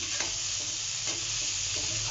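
Spice paste frying in oil in a wok for a vegetarian soybean and pointed gourd curry, with a continuous close sizzle broken by a few soft stirring scrapes.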